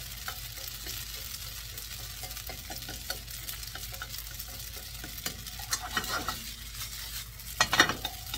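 Noodles being stir-fried in a pan, a soft steady sizzle under repeated scraping and stirring strokes of a utensil that grow busier and louder near the end, with no voices.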